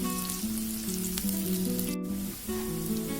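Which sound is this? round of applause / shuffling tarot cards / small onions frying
small onions frying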